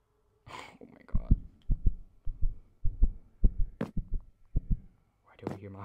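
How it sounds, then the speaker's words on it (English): In Minecraft, a heartbeat thumps in a steady, close double-beat rhythm, each pulse low and soft, with a brief breathy sound at the start and end. "Why do I hear my heartbeat?"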